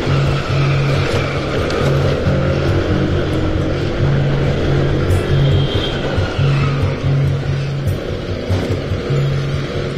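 A car passes on a road in Jammu, heard from inside a moving vehicle as a loud, steady engine and road rumble fills the whole stretch, with a repeating low hum pulsing underneath.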